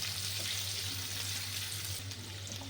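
Chopped onion sizzling gently in a pan on low heat while making rava upma, a continuous close hiss with faint stirring, no voices.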